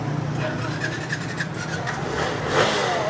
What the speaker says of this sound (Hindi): सेल्फ स्टार्ट है किया फौरी काम, सुजुकी GD110S।